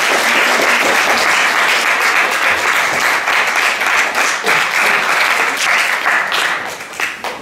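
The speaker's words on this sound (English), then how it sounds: "can we have another round of applause for Professor Ha Joon Chang?" Sustained, dense applause from a lecture audience after a talk, loud and continuous before tapering off slightly toward the end.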